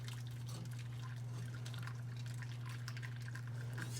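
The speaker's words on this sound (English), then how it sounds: "I'm going to put the hot water just 1 inch up the side." Hot water is poured into a pan as a water bath around a cheesecake, a faint trickling and dripping with irregular splashes over a steady low hum, quiet and close.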